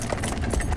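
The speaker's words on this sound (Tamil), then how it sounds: "நீ குதிரையை கிளப்பு" Horse hooves clip-clop in a quick, close run of soft thuds for under a second, set in a Tamil comedy scene.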